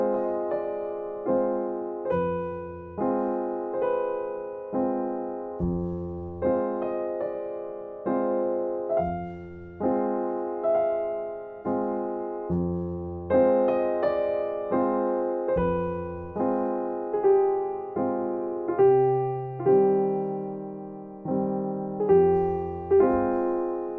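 Solo piano plays the opening theme of Erik Satie's Gnossienne No. 1, a slow, repeating melody over low sustained chords at a steady, unhurried pace. The piece is close and clear, with no voices.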